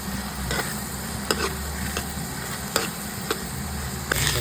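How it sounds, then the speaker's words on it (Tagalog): Sopas with hotdog and corned beef stirred in a pot, steady sizzling and scraping with a few sharp clacks of a utensil against the pot, fairly close and continuous with no talk. "Alright, halu-haluin natin."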